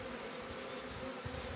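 Honeybees drone around their hives in a faint, continuous buzz that hums steadily without pauses, with no speech.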